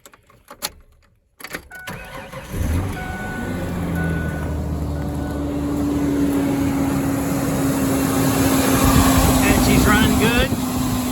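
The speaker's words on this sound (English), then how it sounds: "Now let me go ahead and start it." A Mazda B4000 / Ford Ranger OHV pickup engine, with freshly replaced valve cover and intake gaskets, cranks after a few clicks and settles into a steady, loud idle that hums on continuously to the end, with a faint voice early on.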